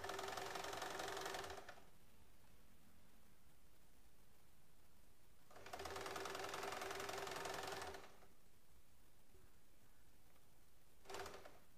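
Sewing machine stitching cloth for a child's frock, running in two sustained bursts of a couple of seconds each with a brief third burst at the end, steady rapid mechanical whirring, close and fairly quiet, with pauses between.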